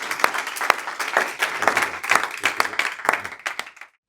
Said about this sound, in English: let's give a huge applause for Dustin McDonald.